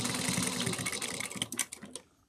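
A sewing machine stitches a change pouch seam, its busy motor whir running steadily close up before breaking into a few short bursts as the stitching slows and reverses near the end.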